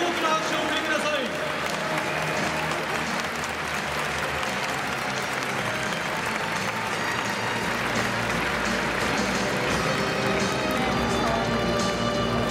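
A baseball stadium crowd applauds pitcher Hitoki Iwase of the Chunichi Dragons at a ceremony honoring his 1,000 game appearances, a dense, loud, sustained roar of clapping that fills the whole stretch without pause.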